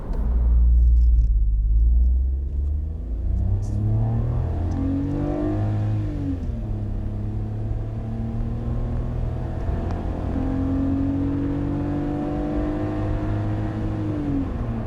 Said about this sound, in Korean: 그렇다면 여기서 잠시 발진 가속 성능 한번 볼까요?